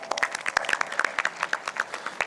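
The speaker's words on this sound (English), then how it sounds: "Let's applaud for them." A small school annual day audience claps steadily, sharp irregular hand claps overlapping at moderate volume with no voices on top.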